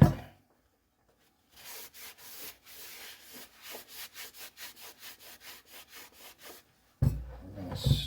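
A cloth wipes the surface of an outboard motor cowl clean before a seal tape goes on, giving a series of short rhythmic rubbing strokes, close and fairly quiet, followed by a brief louder thump at the end.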